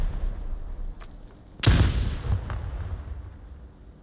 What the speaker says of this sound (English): Nade toss there.